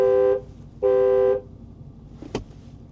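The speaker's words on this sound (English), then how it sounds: "so it honks the horn like so." A car horn honks twice in short, loud blasts, followed by a faint click.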